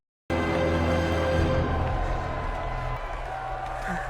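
A crowd cheers and applauds at a medieval knights' tournament, a dense roar that starts suddenly and stays loud, fading somewhat toward the end.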